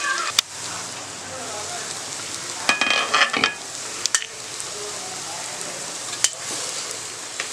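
Masala sizzles steadily in a pan while it is stirred for chicken dum biryani, with sharp clinks and scrapes from the spoon breaking through the constant frying hiss.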